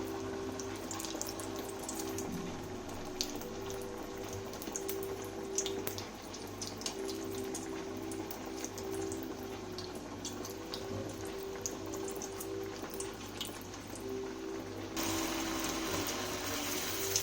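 Radish cutlets frying in hot oil, a steady hiss with scattered sharp pops and crackles, close and continuous with no voices.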